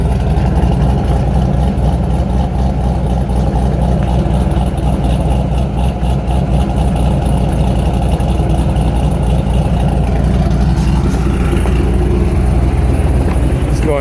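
A 2001 Chevrolet Corvette Z06 in Speedway White with a big cam, aftermarket heads and intake idles steadily for about fourteen seconds, a loud, continuous low rumble close by that never drops out.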